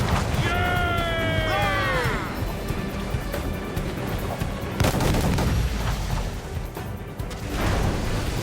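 Ship cannon fire in the video game Assassin's Creed IV Black Flag, heavy booms and crackling blasts during a naval battle, with shouting crew voices heard over the din.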